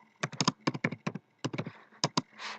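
Quick clusters of crisp keystrokes tap on a computer keyboard as a search is typed into a browser, close and clear, ending with a softer rustle.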